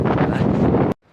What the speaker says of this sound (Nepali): हेर्नु होला चारैतिर हावा लगाइरहेको छ है।